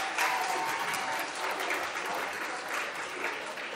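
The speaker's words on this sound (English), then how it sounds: "Let's give Olivia and her parents a round of applause." An audience at a high school volleyball senior night applauds a senior and her parents, giving steady, dense clapping from a crowd that holds for about four seconds without any speech.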